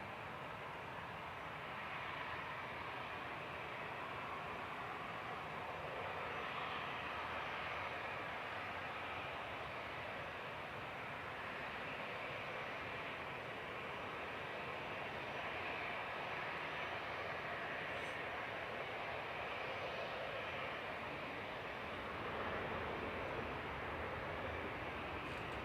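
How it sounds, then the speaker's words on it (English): An Etihad Airways Boeing 787-9 Dreamliner arriving from Abu Dhabi lands at Manchester Airport, a steady, distant broadband engine roar that stays even and unbroken, with no voices. "Etihad Airways coming in from Abu Dhabi. It's 787-9 Dreamliner"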